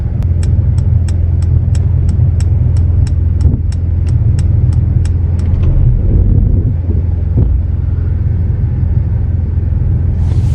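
A 2023 Mercedes-AMG GLE 53 Coupe reverses while parking itself. A steady low rumble runs throughout, with a fast, regular ticking for the first half before it stops and the hum carries on alone.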